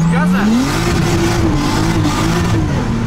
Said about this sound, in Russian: нажимаю чуть-чуть газа